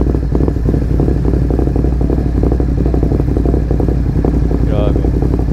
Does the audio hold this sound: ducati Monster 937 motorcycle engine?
yes